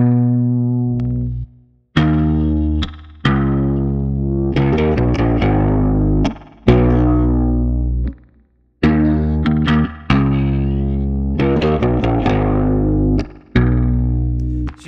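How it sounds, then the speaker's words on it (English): A deep, distorted guitar pitched down a full octave playing chunky riffs with sustained low notes and brief pauses between phrases, sounding heavy and bass-like. "we pitched the entire guitar down a full octave"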